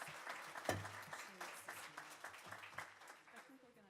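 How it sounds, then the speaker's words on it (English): An audience applauds two community co-founders, scattered, moderately faint clapping from a modest group that thins out gradually, with some voices murmuring underneath. "Let's give them a round of applause."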